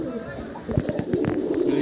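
Pigeons from a pair of white breeding pigeons coo in soft low murmurs, with a run of short clicks and scuffs midway and someone talking over the sounds.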